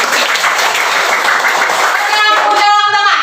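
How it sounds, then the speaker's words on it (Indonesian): Students in a classroom clap their hands together in a loud, dense, sustained burst, with a voice rising over the clapping near the end. "Tepuk tangan dulu."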